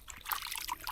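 Water leaking heavily from a spot, trickling and splashing in a steady continuous stream, close and moderately loud with no speech.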